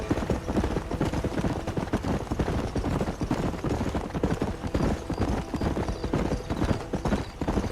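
Horse hooves clip-clop in a fast, continuous galloping rhythm while riding in Red Dead Redemption, loud and dense throughout, with no clear talk.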